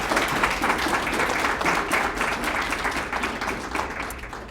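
An audience at a regional poetry recitation finals applauds with sustained, dense clapping that stays loud and even, then tapers slightly toward the end.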